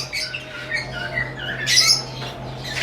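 Fischer's lovebirds and lutino lovebirds in breeding colonies give scattered squawks and chirps, with a brief louder burst of calls amid a steady low background hum.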